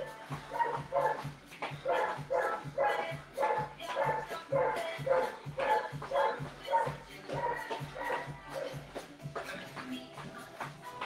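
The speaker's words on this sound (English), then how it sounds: "hopefully you can't hear my dog, but Obi is barking his head off." A dog barks repeatedly indoors in a steady run of barks with a few higher yips. It sounds somewhat distant and carries on under faint background sound during an online fitness class.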